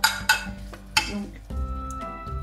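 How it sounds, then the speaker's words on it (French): Cooked rice tipped from a container onto carrots in a pan, with sharp clinks of a utensil against the pot at the start, then a soft scraping, stirring rustle and a low sizzle, close up. "je verse le riz sur les carottes"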